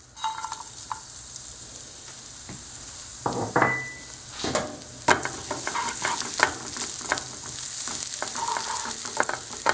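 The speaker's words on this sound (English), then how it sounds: "In a small pan, I'm going to fry bay leaves, whole Mexican oregano dried, and some diced garlic." Bay leaves, dried whole Mexican oregano and diced garlic fry in a small pan, a continuous close sizzle broken by repeated sharp clicks and scrapes of stirring against the pan.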